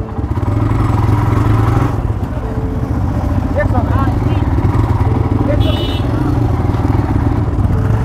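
A Nepali motorcycle engine drones steadily nearby amid road traffic noise, with people talking over the rumble.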